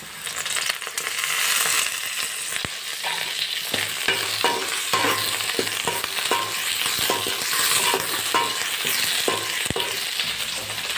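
Ginger, garlic and curry leaves sauté in a hot pan for a Tamil thoothuvalai thuvaiyal, giving a steady loud sizzle broken by frequent scraping stirs and clicks of the spoon against the pan, with no talking.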